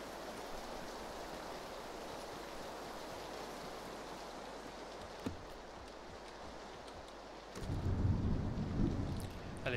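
Rain and thunder in the PUBG battle royale game, a steady dense wash of rainfall throughout with a louder rumbling swell near the end, no talking over it.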